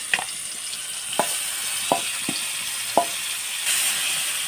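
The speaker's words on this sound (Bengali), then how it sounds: "এই যে মেখে রাখা সয়াবিনটাকে এখন তেলের মধ্যে দিয়ে দিচ্ছে।" Marinated soybean chunks hit hot oil with cumin seeds, giving a steady close sizzle broken by a few sharp clinks of stirring.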